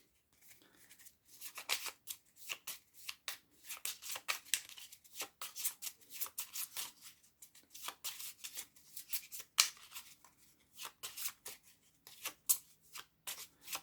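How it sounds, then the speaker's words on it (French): Playing cards being drawn and handled during a Shadowrun Crossfire card game, a quiet run of repeated crisp flicks and slides in close succession, with very little talk. "Toi, tu as les 2 cartes à piocher."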